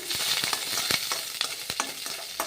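A little more oil sizzles in a pan while chutney is made, a steady close frying hiss with scattered sharp crackles and spoon clicks, no voices.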